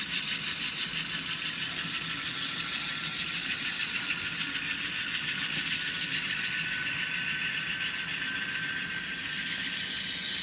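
An N scale model GE C44-9W diesel locomotive runs along layout track with a continuous whirring motor and clicking wheel rattle, steady and close throughout with no voices.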